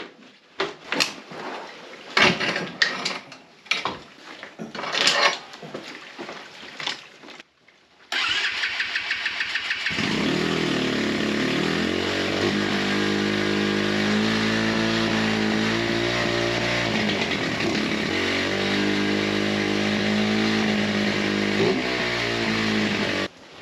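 A Chinese Xpro pit bike engine is kicked over several times with sputtering bursts, then catches and runs, idling loudly with a raspy, buzzing drone and small revs.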